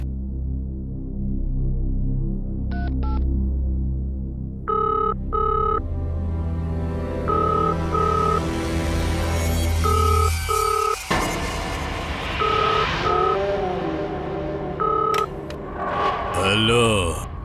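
Hotel room telephone calling reception: a few dial tones and beeps, then repeated ringback tones pulsing at regular intervals over a low hum, ending with a clatter as the line is picked up.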